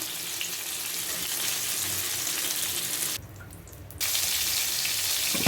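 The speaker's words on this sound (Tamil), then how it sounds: "எல்லா மீனுமே நல்லா பொறிஞ்சி வந்துருச்சு" Valai fish fry in a hot pan with a continuous broad sizzle, which briefly dips and thins for about a second before returning at full strength.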